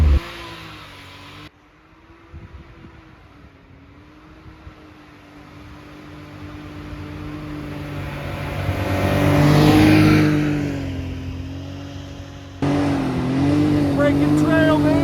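UTV engine droning as it breaks trail through two-foot-deep snow after a big storm, steady and loud with a swell in revs midway, while a person talks over it.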